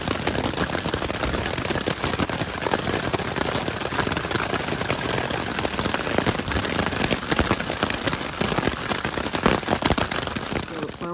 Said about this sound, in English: It hailed for like an hour, almost an hour and a half.